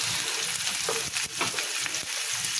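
Potato pieces frying with onion and turmeric in a home kitchen pan, a close, continuous crackling sizzle broken by a few scraping stirs, with no voices.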